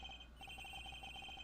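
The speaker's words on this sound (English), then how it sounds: "Agent Hicks's phone! It's ringing from somewhere, sir!" A telephone rings in the Ace Attorney Investigations video game, a faint electronic ringtone repeating in quick pulses on its own.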